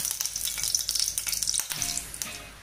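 Oil heats in a kadhai for an egg chingari street-food recipe, giving a busy crackling sizzle with rapid pops, close and fairly quiet, which thins out toward the end.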